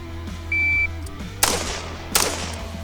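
Two sharp handgun shots ring out at an outdoor shooting range, spaced under a second apart, loud and close over a steady low hum with a brief electronic beep before them.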